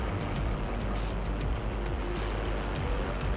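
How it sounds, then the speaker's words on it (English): A helicopter in the Warzone video game, its dense low rotor and engine rumble filling the mix continuously and loudly, with sharper clicks and thumps scattered on top. "Oh, helicopter."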